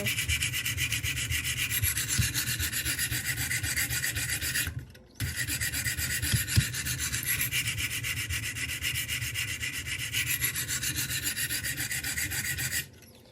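A Glidstrike knife is sharpened on a Wicked Edge sharpening system, steady close rasping grit strokes in a continuous rhythmic scrubbing, broken by one brief pause, with no talking.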